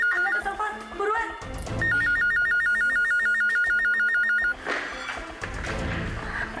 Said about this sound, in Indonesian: Angkat telepon, buruan.